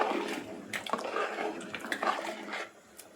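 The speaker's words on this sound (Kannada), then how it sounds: "ಇದು 4 ಲೋಟ ನೀರನ್ನು ತೆಗೆದುಕೊತಾ ಇದ್ದೀನಿ" Water is poured from a cup into a pot of mutton biryani, a close splashing gush lasting a few seconds before trailing off into drips.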